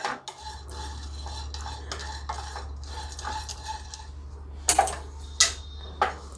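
Whole spices being dry-roasted for garam masala are stirred in a pan at home, giving a steady scratchy rattle with light clinks, then a few sharper metallic knocks of the spoon against the pan toward the end.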